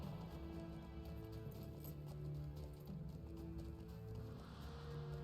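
Horse hooves clip-clopping at a steady pace in the Lord of the Rings Online video game, quiet and regular beneath a sustained tonal music bed.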